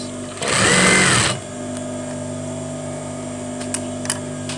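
A sewing machine stitching curtain fabric runs in one loud, fast burst of about a second, then stops, leaving a steady hum and a couple of faint clicks.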